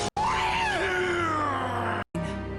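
A loud, drawn-out scream from a cutscene in the video game Dead Rising wavers and falls in pitch over about two seconds, framed by abrupt cuts of silence.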